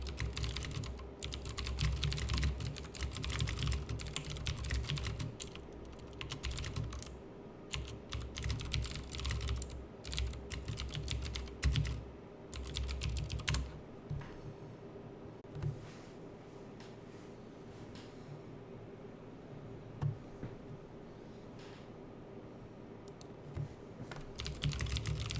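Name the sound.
typing on a computer keyboard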